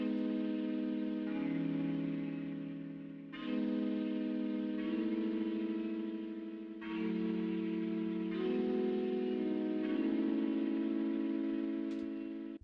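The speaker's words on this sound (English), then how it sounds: "So this is the Bansuri flute without the Supermassive." Bansuri flute played dry without added reverb, holding soft sustained notes that shift pitch every few seconds in a slow, breathy melody, heard alone with no talk.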